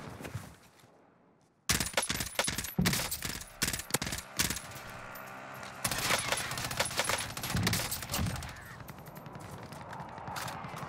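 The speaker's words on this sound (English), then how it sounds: "Damn, this M16 shoots fast, huh?" M16 rifle fire in the video game Warzone comes in rapid bursts of sharp, loud shots after a brief quiet start, with clinking effects and lighter shots following near the end.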